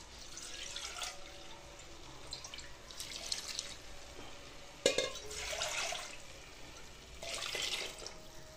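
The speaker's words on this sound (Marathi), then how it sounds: "आता पाणी घालून घेऊया." Water poured into a cooking pot of spiced rice with matki (moth beans), heard as a few faint, short splashing pours separated by quiet gaps.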